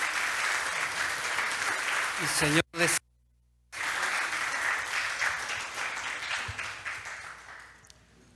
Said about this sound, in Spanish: Démosle un aplauso de alabanza al Rey de Reyes